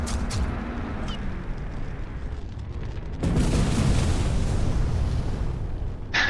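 A napalm-like crimson weapon in a sci-fi strategy game firing and exploding, making a continuous roaring, crackling blast that surges louder halfway through and holds.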